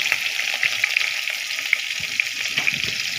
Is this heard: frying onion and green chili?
yes